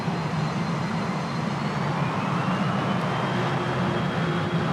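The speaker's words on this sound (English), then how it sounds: "Yeah, they're just your usual jet engines." Steady, broadband jet engine roar of a Douglas DC-8-71 airliner in a flight simulator at full throttle, with a faint high whine, continuous and even in loudness throughout, no voices.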